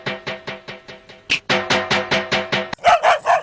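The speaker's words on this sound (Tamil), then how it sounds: "என்னது என்னைக்கு இல்லாம நம்ம நாய் இன்னைக்கு இப்படி குலைக்குது?" A dog barks in a rapid, regular series of about sixteen loud, close barks, ending in a few higher, strained yelps, with no talk over it.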